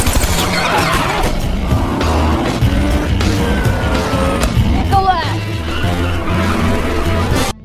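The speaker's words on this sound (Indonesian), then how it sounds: "Namun di tengah jalan mobil Frank dikejar oleh mobil pasukan polisi." Movie car chase with police cars in pursuit: roaring engines, screeching tires and a siren-like wail amid loud action noise, with a voice talking over the scene.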